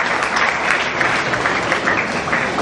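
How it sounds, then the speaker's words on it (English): A crowd at a management institute event claps for a nursing school principal, a dense, even roar of many hands sustained throughout without speech. "Please a round of applause for her."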